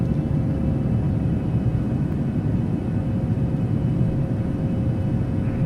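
A steady, loud low-frequency engine roar and rumble inside the cockpit of a Ryanair Boeing 737 climbing after takeoff in Microsoft Flight Simulator, continuous and unbroken throughout.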